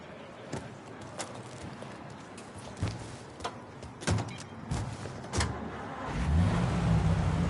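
A car engine in the Mafia video game hums steadily under occasional knocks and thumps, then swells into a louder, deeper revving rumble toward the end, with no talking.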